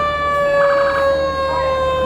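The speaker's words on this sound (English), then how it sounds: "Rescue 108 coming through, making a lot of noise" Fire rescue truck siren blaring at a firemen's parade, a loud, close, steady wailing tone with a strong pitched drone throughout.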